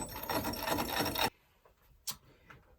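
A gouge on a wood lathe cuts into a huge oak burr, a loud rough scraping rasp lasting just over a second before stopping abruptly, followed by a few faint knocks and a brief hiss.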